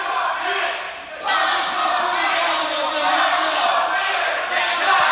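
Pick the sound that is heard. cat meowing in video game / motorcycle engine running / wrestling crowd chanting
wrestling crowd chanting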